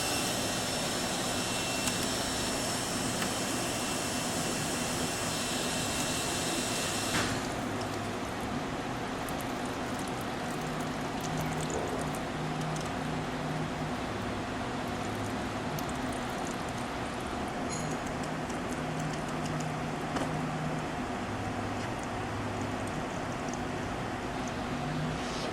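An Elox-Fanuc Series L CNC wire EDM machine from 1984 runs with its pump going, giving a constant dense whooshing drone and hum, with a high hiss that drops away partway through.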